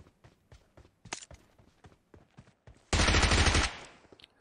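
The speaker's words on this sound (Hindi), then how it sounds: "बिल्कुल टाइम पे प्री फायर दिया" Automatic rifle fire in PUBG Mobile: a few sharp isolated shots early on, then a loud sustained burst of rapid gunfire lasting under a second before fading, with light footstep-like clicks throughout.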